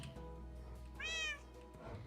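A Minecraft ocelot gives a single short, rising meow over a quiet background hum.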